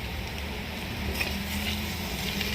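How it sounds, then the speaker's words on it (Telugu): Vegetables frying in a pan with salt and chili powder, a dense close sizzle with soft stirring scrapes, steady and unbroken for a couple of seconds, no voices. "కొద్దిసేపు ఫ్రై చేయాలి ఉప్పు కారం వేసినాక మంచిగా ఫ్రై చేసుకోవాలి"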